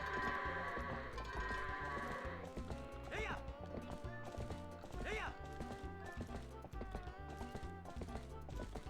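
Goats in the video game Twilight Princess bleat twice in wavering calls over a steady in-game music bed with rhythmic thumping, moderately loud and fairly close.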